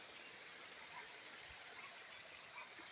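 Water from a countryside creek and its small waterfall rushes continuously, giving a soft, even hiss. The sound is steady and faint, with no talking or other events in it.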